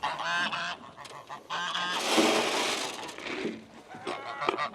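Farm geese honking at feeding time, repeated loud nasal honks in bursts from several birds nearby, overlapping with rustling and a brief noisy stretch in the middle.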